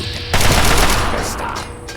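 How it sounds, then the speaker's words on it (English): Automatic turret fire in Fallout 3 bursts in suddenly as a loud, dense rattle of rapid gunshots, sustained for well over a second before tapering slightly. "Obviously, there's a turret."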